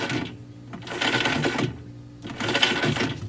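A Whirlpool washer agitator with worn agitator dogs is turned by hand, giving two bursts of rough, gravelly grinding clatter separated by quieter pauses, heard close.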